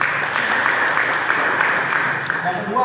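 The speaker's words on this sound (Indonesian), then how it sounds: "Beri tepuk tangan bagi Tuhan Yesus." Congregation applause at a Christian church service fills the space as a steady wash of clapping, continuous and moderately loud for a few seconds, with voices mixed in.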